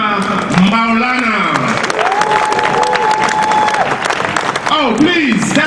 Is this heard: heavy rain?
no